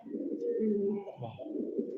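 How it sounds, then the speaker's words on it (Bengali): Pigeons coo close by, low throaty rolling calls repeating over two seconds with no talking. "কবুতরের ডাক দেখাই আপনাদেরকে"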